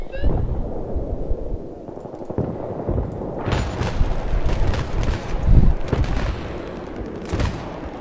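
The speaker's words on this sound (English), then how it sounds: "Wow, that was a good grenade." Explosions and heavy gunfire in Battlefield 3 on the Grand Bazaar map during a Rush round on PC, with a loud grenade blast around the middle standing out from a constant din of shots and booms.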